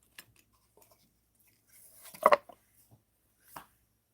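Scissors cutting off material while making a bead book, a few faint snips and clicks scattered across a quiet stretch, with one louder crisp cut in the middle.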